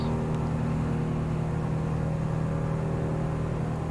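Piper Arrow single piston engine in a flight simulator, running just rich of peak: a steady, loud droning hum with constant tone, continuous and alone throughout.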